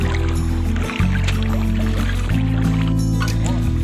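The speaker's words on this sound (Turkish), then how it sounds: "Gördüğünüz gibi bazen biraz dalga vuruyor." Small waves lap steadily at a lake shore near a village, a close, continuous watery wash with low rumbling surges and a soft break near the one-second mark.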